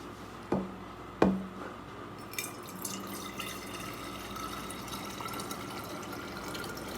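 A PBW cleaning tablet drops into hot tap water in a vessel on a homemade stir plate, two sharp clinks close together, then a soft steady fizz and swirl of water, no talking.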